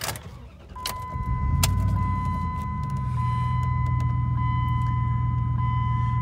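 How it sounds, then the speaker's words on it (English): A 2004 Dodge Dakota pickup engine cranks and catches, surging to a rumble and then settling into a steady idle, with a warning chime ringing as it starts. "I'm gonna start the truck up."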